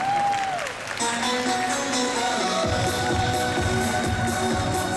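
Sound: audience applauding a singer

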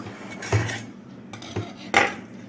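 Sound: knife run around cake tin edge

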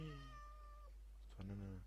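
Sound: cat meowing

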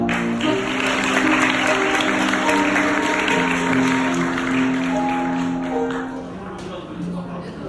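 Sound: wedding guests applauding

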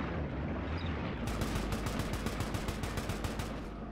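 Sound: bomb explosion in video game Arma 3

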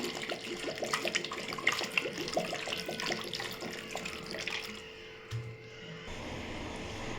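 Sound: pouring water into cooking pot

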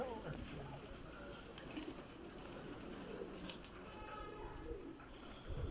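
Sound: flock of birds settling to roost

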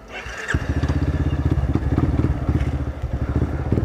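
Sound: motorcycle engine running

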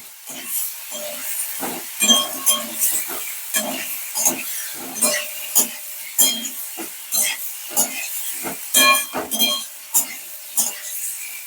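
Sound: sautéing boiled potatoes in a pan

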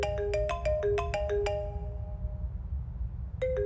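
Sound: phone ringtone ringing

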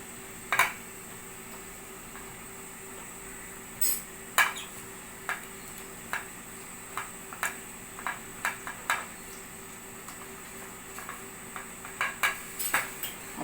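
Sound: cooking vessel handled, greased with oil for pressure cooker

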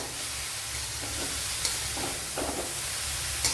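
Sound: onions sizzling while frying for Kerala cheera thoran

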